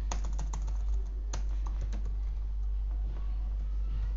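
Computer keyboard clatters as JavaScript code is typed, a close, steady run of quick keystrokes with a few louder taps, over a low hum and with no voice.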